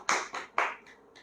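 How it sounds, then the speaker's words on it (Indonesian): A church congregation claps in a few short sharp bursts, close and brief, with quieter scattered claps trailing off. "Tepuk tangan buat Tuhan kita yang baik"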